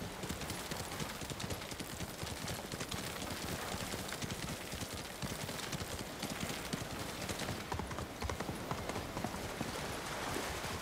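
Horse hooves clip-clop steadily in the video game Ghost of Tsushima, a dense, continuous run of hoof beats at an even loudness with no talk.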